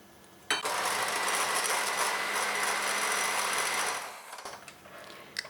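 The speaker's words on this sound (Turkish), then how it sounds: "Mikserle çırpacağım." An electric hand mixer whips powdered sugar and cream at close range for several seconds, starting abruptly and then winding down, followed by faint clatter.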